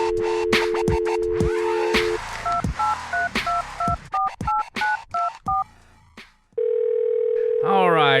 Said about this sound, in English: All right, dialing up Danny.